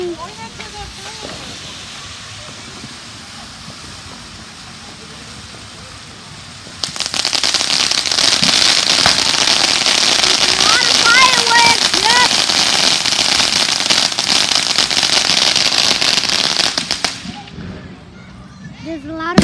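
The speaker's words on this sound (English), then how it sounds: "There's a lot of fireworks, guys." A long, dense string of Fourth of July firecrackers crackles and pops rapidly for about ten seconds, loud and sustained, after a stretch of quieter background with voices.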